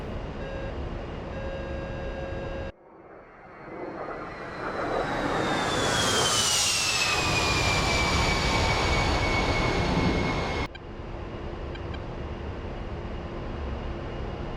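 An A-10C II jet in the DCS flight simulator passes by with a rising turbofan whine and roar that swells loud, sweeps down in pitch as it goes past, then cuts back to a steady cockpit engine hum; no speech.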